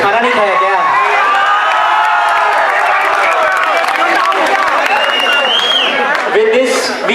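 Audience at a school program applauds a dance performance, loud dense clapping and cheering from a large crowd with children's shouts, sustained throughout and close to the recorder.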